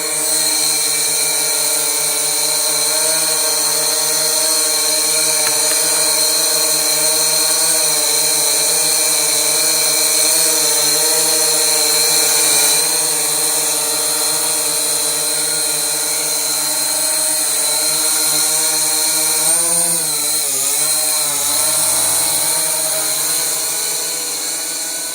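An SJRC S70 drone flies while carrying another small drone, its propellers giving a loud, continuous high-pitched whine with steady tonal buzz that wavers slightly in pitch as it hovers and shifts, close and without interruption.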